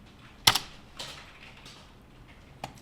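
A few sharp computer keyboard keystrokes for a Ctrl+Enter press in accounting software, one crisp click followed by softer taps spread apart, close and isolated in a quiet room.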